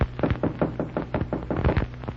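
Knocking on a hotel room door in an old radio drama, a run of about eight firm raps in quick succession, close and fairly loud, with no voices over it.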